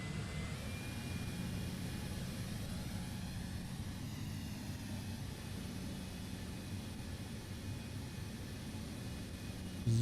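A simulated airliner engine from Microsoft Flight Simulator 2024 drones in a steady, even jet rumble with a faint whine above it, holding constant for about ten seconds before a slight swell at the very end.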